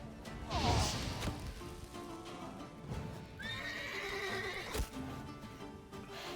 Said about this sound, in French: Tu as tiré sur mon cheval là.